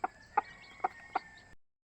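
A mother hen with newly hatched chicks gives four short, evenly spaced clucks, fairly close, and then falls quiet.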